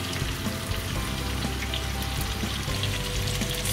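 Stuffed bitter melon (karela) frying in a pan, a steady close sizzle and crackle of hot oil running continuously with no talk.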